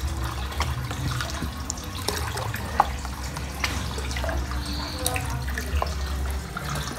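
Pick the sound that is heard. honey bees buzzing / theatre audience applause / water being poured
water being poured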